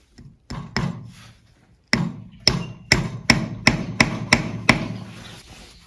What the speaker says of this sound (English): Take your center post from your jig and then gently tap it into your workpiece.